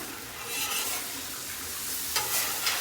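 Meat browning in a hot pan with Tony Chachere's seasoning, a close continuous sizzle and crackle with a couple of brief scraping stirs near the end.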